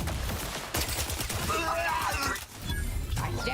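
A rapid-firing weapon in the video game The Outer Worlds 2, with dense bursts of shots and impacts over about three and a half seconds, mixed with character voices and combat noise.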